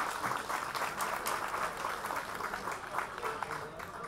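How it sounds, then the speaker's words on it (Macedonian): An audience at a Balkan folk festival claps in sustained applause, a dense, even patter of many hands heard from a moderate distance, with faint voices underneath. "Ова заслужува уште поголем аплауз."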